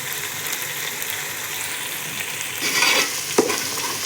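Pulav masala frying and being stirred in a pan: a steady, close sizzle with scraping spoon strokes that swell briefly near the end and a sharp clink, no talking.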